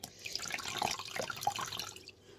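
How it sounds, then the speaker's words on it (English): A washcloth dipped and swished in a basin of lukewarm water, with close, soft sloshing and dripping trickles for a couple of seconds. "get your washcloth and then obviously dip it in the lukewarm water"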